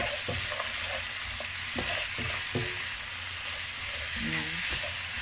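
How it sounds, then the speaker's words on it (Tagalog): Braised pork belly with brown sugar sizzles loudly in a pan while a utensil stirs and scrapes, giving scattered clacks and scrapes over a constant frying hiss. "Haluin lang."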